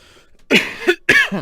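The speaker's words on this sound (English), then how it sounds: "Sorry about the cough there." Two or three harsh, throaty coughs close to the microphone, each a short loud burst with a brief gap, after a quiet start.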